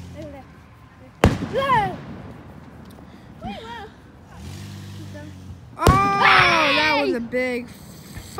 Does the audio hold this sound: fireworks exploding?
yes